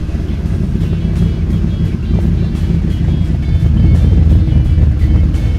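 Turbo LS V8 in a BMW E36 idling at operating temperature, a steady low rumble muddied by heavy wind buffeting on the microphone.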